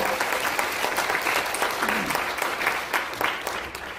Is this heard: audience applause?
yes